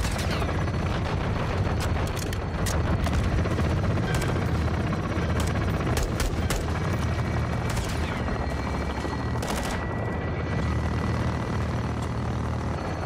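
A helicopter's rotor thrum in the video game Call of Duty: Modern Warfare II (2022) campaign runs throughout under intermittent bursts of loud gunfire, with explosions and shots punctuating the steady drone.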